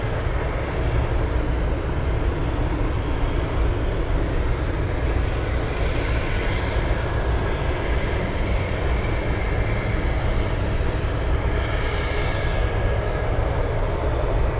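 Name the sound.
Boeing 747 Dreamlifter aircraft flying past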